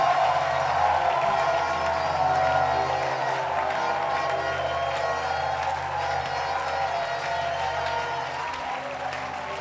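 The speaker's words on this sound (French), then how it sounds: "Give the Lord a mighty clap of praise." A church congregation at a Ghana gospel crusade claps in praise, a dense, loud, sustained wash of applause with some cheering that tapers off slightly toward the end.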